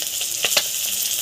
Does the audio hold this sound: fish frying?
yes